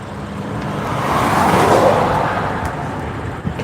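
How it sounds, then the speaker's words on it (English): A Chevrolet Camaro race car passes on the track at NCM during the One Lap of America, its engine sounding rough and unhappy as a broad roar swells toward the middle and then fades slowly, with no talk over it. "And the Camaro just doesn't sound happy at all."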